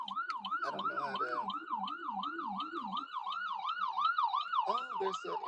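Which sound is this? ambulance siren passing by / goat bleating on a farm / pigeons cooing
ambulance siren passing by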